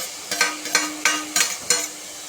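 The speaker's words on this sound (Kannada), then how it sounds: "ಇದನ್ನು ಹಾಕ್ಕೊಂಡು ಸ್ವಲ್ಪ ಫ್ರೈ ಮಾಡ್ಕೊಳ್ಳುವ ತೋಫುವನ್ನು. ತರಕಾರಿ ಕೂಡ ಹಾಕಿ ಫ್ರೈ ಮಾಡ್ಕೊಳ್ಳೋದು." Tofu and vegetables frying in a pan, five distinct scraping stir strokes in a loose rhythm over a soft sizzle, close and fairly loud, with no voices.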